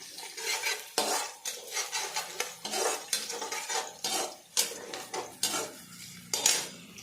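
A spoon scrapes and clatters against a cooking pot while masala is stirred into onions, in repeated rhythmic strokes with a faint frying sizzle underneath, close up and without talking.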